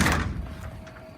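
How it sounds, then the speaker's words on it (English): A steel utility-body cabinet door on a 2005 Ford F-350 XL crew cab utility truck shuts with one short, dull thud close by, followed by a brief fading rattle. "All the doors open and close."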